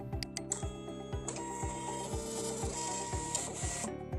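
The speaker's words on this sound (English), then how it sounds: "To print out an ID card, simply click the ID card button." A thermal card printer prints an ID card, whirring and feeding with a steady mechanical hum and a regular series of clicking thumps, heard close and alone.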